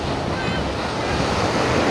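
Ocean surf washes in as a steady, loud roar of breaking waves, with wind buffeting the microphone throughout and no voices.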